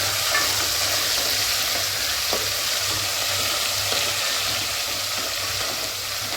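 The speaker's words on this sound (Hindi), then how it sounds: "थोड़ा सा इसे भून लेंगे" Ginger garlic paste and spices frying in a pan for mutton biryani, giving a steady, loud, continuous sizzle close by with faint stirring scrapes now and then and no talking.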